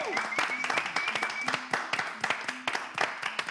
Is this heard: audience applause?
yes